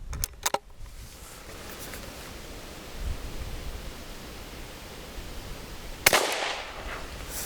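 A Zastava M-56 rifle fires Federal ammunition at tomatoes and apples outdoors: a few small clicks at the start, then one sharp, loud report that rings and fades over the steady outdoor hush.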